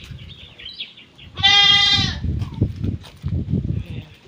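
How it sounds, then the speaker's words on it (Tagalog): A goat in a farm pen lets out one loud, wavering bleat close by, followed by low murmuring voices and rustling. "Ito yung mga kambing."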